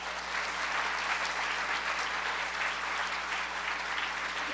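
Audience applause welcoming Secretary of Labor Tom Perez to the stage, a steady, dense wash of clapping from a large crowd that holds evenly throughout with no voices over it.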